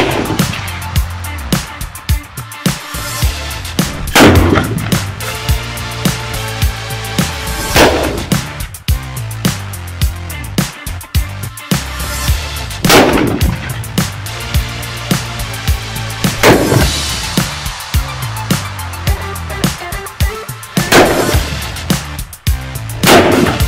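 A spring-loaded potash gun built from a bike shock absorber firing repeatedly outdoors: loud, booming blasts about every four seconds with rattling and clattering noise between them.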